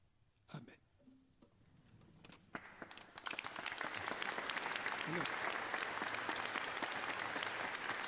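Audience applause at a Catholic catechesis gathering, starting with a few scattered claps and swelling into sustained, dense clapping from a large crowd that continues steadily to the end.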